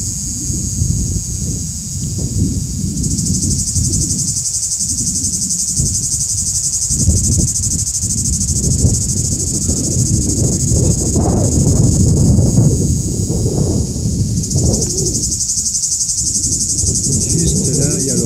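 Red cicadas in Provence sing in a steady, loud, continuous high buzz throughout, with rustling and low movement noises underneath.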